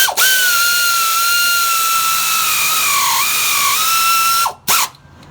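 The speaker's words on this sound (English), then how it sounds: "Wheels a little long, so I got me an air ratchet." Air ratchet snugging down cylinder head bolts on an LS-engine Silverado SS, a loud, steady high-pitched pneumatic whine that sags slightly under load, then cuts off with a brief final burst.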